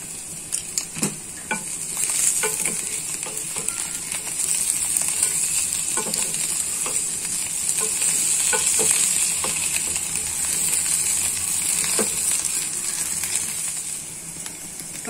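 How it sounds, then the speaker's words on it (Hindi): Potatoes fry in a pan for a fasting-day dish, a steady loud sizzle and crackle with scattered clinks and scrapes as they are stirred throughout, and no speech. "तो आलू फ्राई हो चुका है।"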